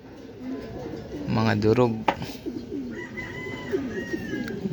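Racing pigeons arriving from a training toss, with a low coo and rooster-like call briefly heard under someone speaking nearby, plus soft fluttering and handling noises.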